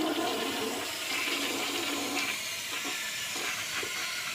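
A toilet flushing just after a clog was cleared with a plunger: a steady, loud rush and swirl of water running throughout, with no voices.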